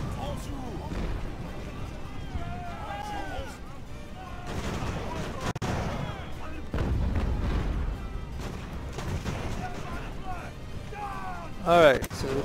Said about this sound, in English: I'm gonna see if I can get my mortar to hit it.